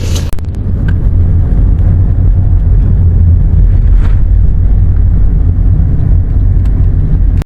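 A jeep engine in Manila rumbles low and steady, a loud close idle drone with faint background noise and a sharp knock at the start.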